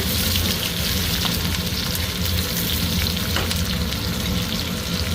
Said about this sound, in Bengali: পেঁয়াজ ভাজা হয়ে যায়, তেলে দিয়ে দিলাম জিরে, তেজপাতা